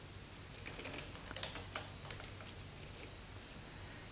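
Quiet keystrokes on a computer keyboard, a short burst of separate clicks typing a Linux command, with faint background hiss and no voices.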